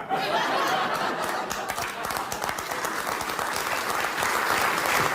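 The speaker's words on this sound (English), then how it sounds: "You better not be cheering like that because you're happy about Charlie Kirk" A studio audience at a comedy talk show breaks into sustained applause and cheering, a dense steady wash of clapping with scattered laughs and whoops throughout, loud and continuous with no talk over it.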